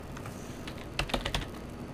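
Fingers typing on a computer keyboard, a short burst of four or five crisp clicking keystrokes close by, following quieter room tone.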